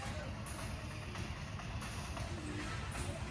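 A chhakda three-wheeler on a village road gives a steady low engine rumble and rattle throughout, fairly close and constant, with faint voices in the background.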